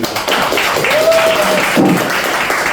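An audience at a middle school Korean language academy information session claps steadily as a lesson begins, a dense, loud wash of applause with a brief voice rising over it.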